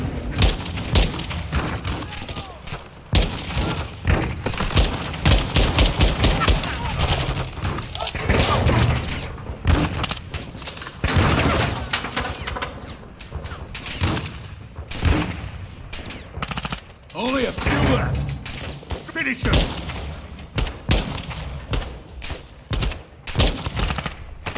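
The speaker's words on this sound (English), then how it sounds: "They're launching grenades!" Sustained automatic gunfire with heavy thumping grenade blasts in the Modern Warfare 2 campaign, loud and continuous throughout, with voices shouting over the combat.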